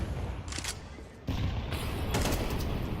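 Shotgun fire in a Counter-Strike esports match comes as a few loud, harsh bursts spaced over a few seconds against a busy game background.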